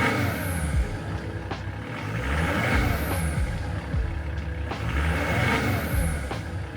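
Volvo V40 D3 five-cylinder diesel on its standard exhaust, a steady broadband engine note with low rumble and a few swelling revs, continuous and fairly loud with no talk.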